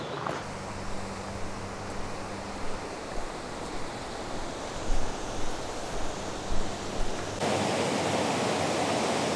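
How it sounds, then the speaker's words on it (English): Steady broadband rush of Grey Mares Tail waterfall at Kinlochleven, Scotland, heard from a distance with heavy water flow, a continuous even roar that swells louder near the end, with no voices. "there seems to be a lot of water going over, because I can hear it already"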